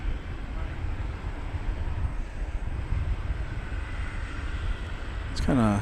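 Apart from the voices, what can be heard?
Qantas jet airliner engines idling at DFW Airport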